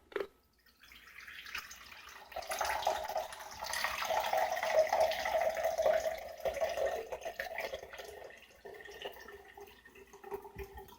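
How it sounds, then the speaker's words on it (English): Jun tea poured out of a glass jar, a steady liquid stream running for several seconds at close range, starting after a brief knock and tapering off into softer trickles. "So what I'm going to do now is kind of pour some of the beverage out of it."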